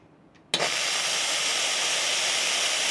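A Victoria Arduino Eagle One espresso machine's steam wand bursts on suddenly after a near-silent moment, then hisses loudly and steadily close up.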